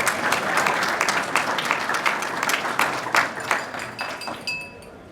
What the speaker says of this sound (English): you're allowed to applaud that